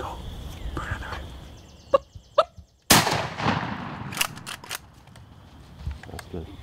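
A single sharp gunshot cracks out at a turkey during a hunt, preceded by quiet voices urging the shot, with brief talk and faint outdoor noise continuing afterward.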